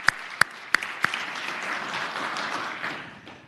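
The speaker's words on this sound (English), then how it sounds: "Make sure that we give him a round of applause." Applause in the Senate of Virginia chamber, a moderate sustained patter of many hands, opening with a few sharp louder claps and fading away toward the end, with no talk over it.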